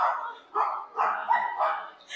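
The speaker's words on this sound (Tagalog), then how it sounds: "maraming aso. Ang cute nila, maraming aso" Several dogs bark and yip in short, repeated bursts, fairly close, with brief pauses between the barks.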